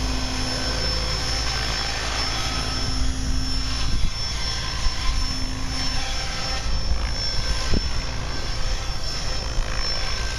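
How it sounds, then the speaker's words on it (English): Minicopter Diabolo single-seat helicopter on a low head speed test flight, its rotor and engine producing a loud, continuous droning buzz with a steady tone throughout, without talk. "minicopter Diablo test flight for Ramon"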